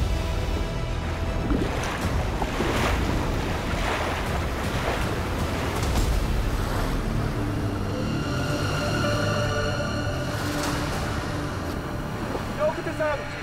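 Stormy sea waves and gusting wind batter the shore during a typhoon with heavy rain, a loud, continuous wash of surf and wind noise while people talk and shout over it.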